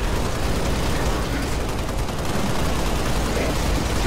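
Sustained dense gunfire in Halo Reach as a whole magazine is emptied, loud and unbroken from start to end, with clattering mechanical texture layered into the burst.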